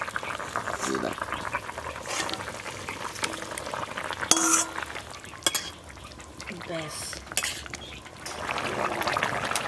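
Chunks of large rohu fish go into hot oil in a pan for frying, giving a sizzle that rises near the end. Clattering utensils and stirring sound up close, and people talk over it.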